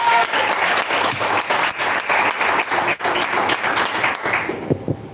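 A church congregation breaks into loud, sustained applause that fills the space evenly for about four and a half seconds before tapering off abruptly.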